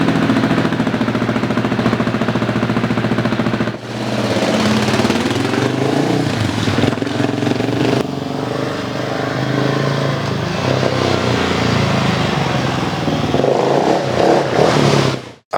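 Husky 701 motorcycle engine starting up and running close by, a loud, rough single-cylinder chatter that dips briefly, then settles into a steady running note with small rev changes before cutting off abruptly.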